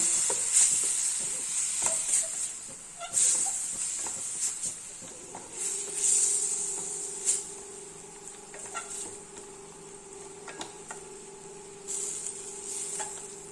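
Oil sizzles and hisses steadily in a pan while a utensil scrapes and stirs the food in irregular strokes, close by and without talk.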